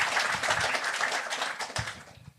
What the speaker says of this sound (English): Y'all clap it up for that, please